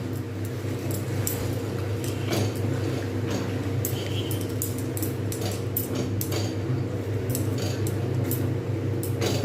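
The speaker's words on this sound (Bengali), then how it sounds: "এরমভাবে কিন্তু আমি কন্টিনিউ নাড়তে থাকবো" Semolina halwa with cardamom is stirred in a pan over low heat, giving soft repeated scrapes and light clinks against a steady cooking hum.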